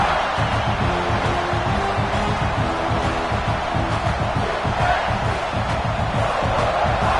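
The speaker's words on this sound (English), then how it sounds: "Listen to the crowd energy here in the early going." A packed college football stadium crowd in the NCAA 26 video game fills the scene with a loud, continuous roar of cheering and chanting that holds steady throughout, with no commentary over it.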